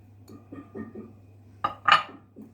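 A utensil stirs an herb omelette mixture with greens in a dish, giving a few soft scrapes followed by two sharper clinks against the dish, close and brief, in a quiet room.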